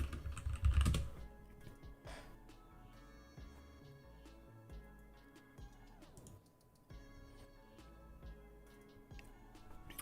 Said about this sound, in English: Let me type him in real quick.